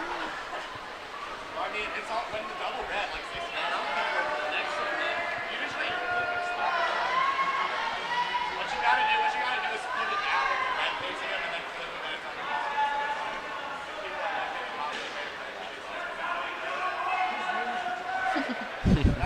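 Spectators cheer on swimmers at a club swim meet in an echoing natatorium, a steady hubbub of shouts and calls with occasional thuds, heard under nearby talking.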